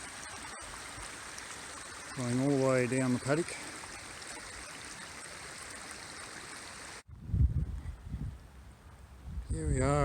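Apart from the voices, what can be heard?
water flowing out of a dam through a fence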